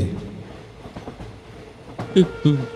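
A train rumbles with rhythmic clickety-clack and a couple of sharp squeals or clanks, played as a sound effect in a Bengali village ghost story set aboard a train; a voice may be faintly present.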